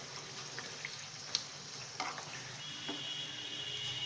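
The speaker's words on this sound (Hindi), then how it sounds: "फिर फ्राई करते रहेंगे जब तक थोड़ा सा कलर इसका चेंज ना हो जाए।" Tricolour puri fries in hot oil in a pan, a steady close sizzle with a few light clinks and stirring taps over it, with no talking.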